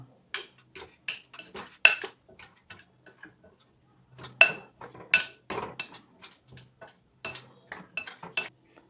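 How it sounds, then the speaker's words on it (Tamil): A spoon clinks and taps against a bowl while cheese sandwich filling is mixed, producing a quiet, irregular series of sharp metallic ticks with short pauses. "எல்லாத்தையும் மிக்ஸ் பண்ணிக்கலாம்"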